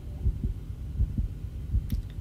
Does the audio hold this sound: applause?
no